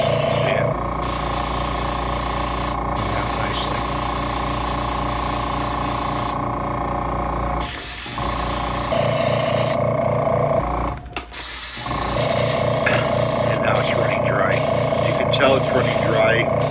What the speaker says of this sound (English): put this compressor on, and I can feel some nice air coming out there